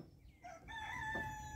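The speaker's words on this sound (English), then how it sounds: "rooster's crowing, goats are coming" A rooster crows once at a farm with goats nearby, a loud, close cock-a-doodle-doo rising and holding over faint background noise.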